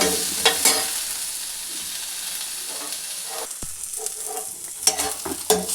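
Tomatoes and other ingredients roasting in a hot pan, a steady close sizzle broken by several sharp scraping stirs at the start and again near the end, no talk.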